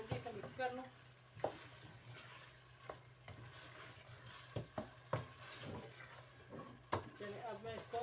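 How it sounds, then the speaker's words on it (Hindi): Biryani masala with whisked yogurt stirred quickly over high heat in a pan: a soft sizzle runs throughout, broken by sharp scrapes and clinks of a spoon against the pan at irregular intervals. "अब मैं तेज़ आंच कर इसको जल्दी से मिक्स कर लूँ।"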